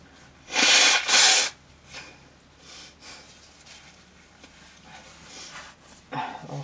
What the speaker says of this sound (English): I'll blow my nose.